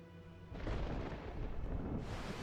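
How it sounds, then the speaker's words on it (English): A thunderstorm rolls in The Legend of Zelda: Twilight Princess HD, a deep rumbling roar swelling after a quiet opening and holding steady, with a fresh surge near the end. "Now it's getting stormy"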